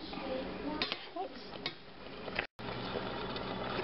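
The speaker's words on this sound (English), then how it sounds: "I am going to try to flip this with one hand" A pan of food over medium heat, flipped after eight minutes of cooking, gives a steady close sizzle broken by a few sharp clinks and scrapes of utensil against metal, then a momentary dropout before the hissing resumes evenly.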